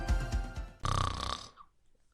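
Snoring in a sleep study advertisement: a rasping, guttural snore that rises into one loud sustained rattle and then fades out, with no talk over it.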